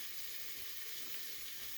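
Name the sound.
onions frying in a pan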